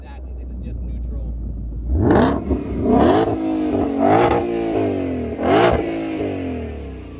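Supercharged 2020 Ford Shelby GT500 engine revving in neutral, a steady idle rumble followed by four sharp throttle blips that rise and fall, loud and close.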